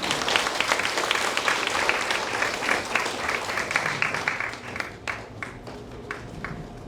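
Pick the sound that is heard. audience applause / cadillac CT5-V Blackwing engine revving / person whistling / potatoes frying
audience applause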